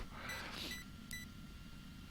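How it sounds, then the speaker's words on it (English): A short electronic beep marks the engine starting in the Commodore 64 naval game Power at Sea, a couple of brief high tones over a steady low hum of in-game background noise. "We're still getting this little beep there, so the engine started."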